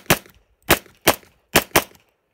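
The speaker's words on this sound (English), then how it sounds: "Let's fire a couple shots and see what that looks like." Five sharp handgun shots fired one-handed at a range, loud and close, in an uneven rhythm of two, one, then a quick pair, each crack decaying quickly into quiet.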